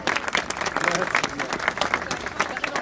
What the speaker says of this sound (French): je vous demande d'applaudir très fort à nous rejoindre